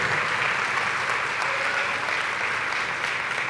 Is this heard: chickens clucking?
no